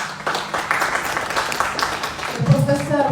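An audience at a workshop breaks into applause, a dense wash of clapping that carries on under a speaker's voice.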